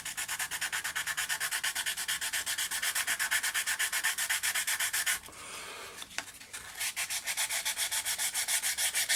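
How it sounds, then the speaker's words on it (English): Steady rhythmic rubbing strokes of sandpaper on a resin 3D-printed part, close and continuous, with a brief pause and light clatter midway before the scraping resumes. "we can get on with doing a bit more sanding"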